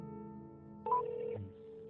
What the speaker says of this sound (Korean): 내 어머니 복 여사가 서로 통화하실 수 있게 해드렸습니다